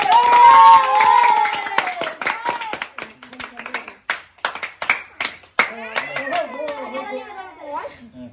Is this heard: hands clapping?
yes